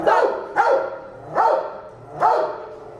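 A dog at an animal shelter barks four times in an even rhythm, each bark loud and close, with faint room noise between them.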